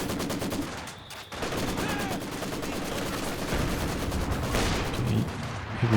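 Battlefield gunfire and explosions in Company of Heroes 2, where a heavy mortar barrages an enemy infantry support gun. Dense, continuous rattling fire mixes with heavier thuds, all loud and sustained.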